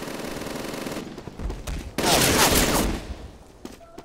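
Machine gun fire in the video game Day of Defeat: Source, dense bursts of shots and a heavy explosive blast amid continuous battle noise, loud and close, ending in a few scattered shots.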